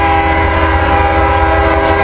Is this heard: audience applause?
no